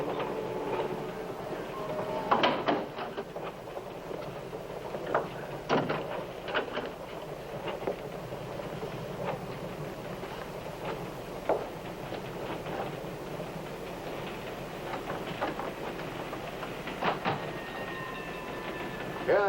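A train rolls along the rails with a steady low rumble and scattered clicks and clunks from the wheels and carriage, heard from inside, fairly faint and without speech.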